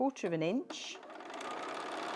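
A sewing machine starts up while quilt charm squares are chain pieced onto a strip of fabric, its steady whir following a short spoken phrase.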